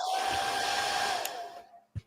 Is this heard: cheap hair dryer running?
yes